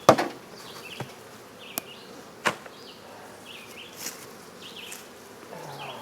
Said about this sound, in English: Go ahead and knock these extra bees in there now.